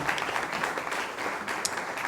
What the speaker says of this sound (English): So another round of applause for ID there.